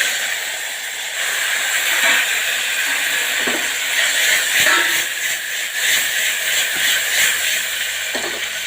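Potatoes dropped into hot oil already tempered with mustard seeds, cumin and asafoetida for a methi-potato dish give a loud, steady hissing sizzle with occasional faint pops and utensil clicks.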